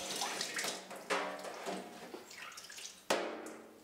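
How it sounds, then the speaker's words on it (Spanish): Cucumber seeds being rinsed in a strainer under a running tap, a steady close splash of water with a couple of abrupt louder gushes. "Luego se lavan las semillas en un colador bajo un chorro de agua."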